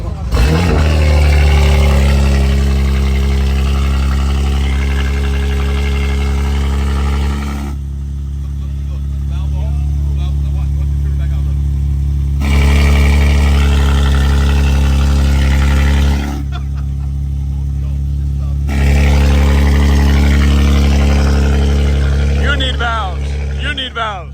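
A stock single-turbo BMW G80 M3 at a Miami cars-and-coffee meet idles loudly, its deep engine drone rising and falling in long surges, with people talking nearby.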